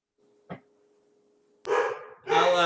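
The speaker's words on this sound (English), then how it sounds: "the sound of my dogs barking in the background" Dogs bark in the background of a home during an online presentation. A faint thump comes first, then two loud, close bark bursts follow in quick succession near the end.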